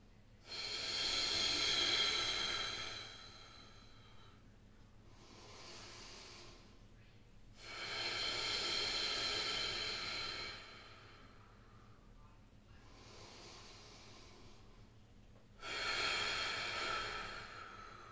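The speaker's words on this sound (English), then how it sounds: "That little breathing session at the end is going to help a lot with recovery" Heavy breathing during recovery at the end of a home workout: three loud, sustained exhalation bursts with pauses between them, close and breathy.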